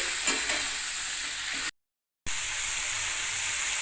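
Pumpkin and potato frying on a medium flame for a ghonto with hilsa fish head, a steady bright hiss of oil interrupted by a short silent gap, with faint stirring near the start.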